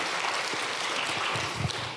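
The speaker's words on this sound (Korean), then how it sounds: "우리 하나님께 한번 감사와 영광의 박수 한번 하겠습니다." A church congregation claps together in praise, a dense continuous patter of many hands that fills the hall evenly from start to finish, with no talking.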